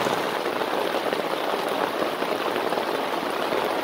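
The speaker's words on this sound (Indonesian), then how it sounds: "kabut masih tebal dan hujan juga belum reda" Steady rain falls at a fog-covered mountain summit during a solo hike, a continuous dense hiss of drops close by with no voices, unbroken from start to finish.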